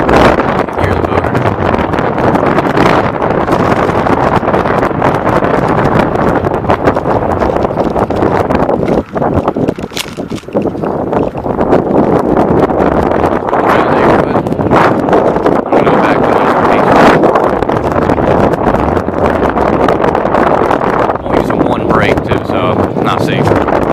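Wind buffets a microphone throughout a ride on a high-torque electric bike bought cheaply on eBay and ridden at around 25 to 30 mph. The roar is loud and constant, dipping briefly once, and no voices come through.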